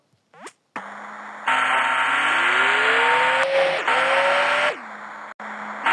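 A car in the video game Chicken Gun drives off with a steady engine drone that rises in pitch as it accelerates, dips briefly, then climbs again before cutting out, heard alone without talk.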